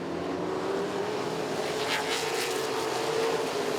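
Modified race cars roar around the oval at Southside Speedway, a dense, continuous engine drone with a rising whine as the field passes, loud and steady throughout with no voices.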